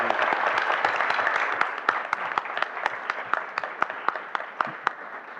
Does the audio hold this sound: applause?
yes